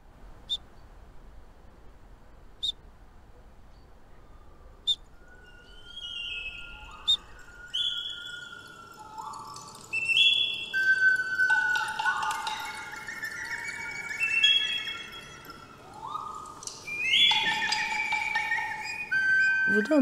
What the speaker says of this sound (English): you could use a special whistle